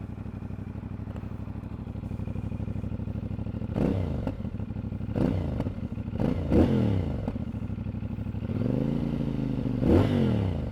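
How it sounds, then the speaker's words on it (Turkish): A CF Moto 450SR motorcycle engine runs at a steady idle, broken by several sharp throttle blips that rev up and fall back, close and loud with no talking. "Sesini dinletelim."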